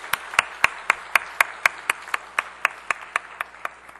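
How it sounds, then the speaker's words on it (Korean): Church congregation clapping in a slow, steady rhythm of about sixteen sharp claps over four seconds, each clap clear and distinct in a reverberant hall, with some faint voices underneath. "우리 한번 큰 박수로 해주시면 돼요"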